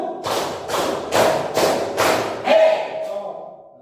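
A group of adults at a teachers' meeting claps in unison to a leader-called one-clap pattern: five sharp, evenly spaced group claps ring out close and loud, followed by a brief shouted voice.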